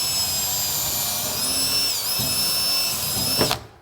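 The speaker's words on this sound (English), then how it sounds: "So I'm going to pre-drill those holes" A power drill whines steadily at high pitch, pre-drilling into pine for several seconds before spinning down abruptly near the end.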